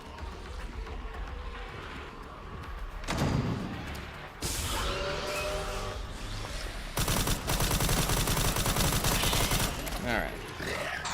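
Rifle fire rings out in Resident Evil Requiem, loud repeated shots with echoing bursts in close succession, over game ambience while someone speaks briefly.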